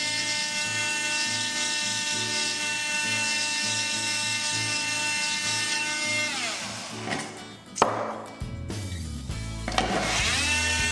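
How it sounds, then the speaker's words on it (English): Oscillating multi-tool cutting into timber door frame trim to fit laminate flooring, a steady buzzing vibration running loud for several seconds before stopping, followed by a few clunks and handling noises. "So the easiest thing to do here is just with the multi-tool."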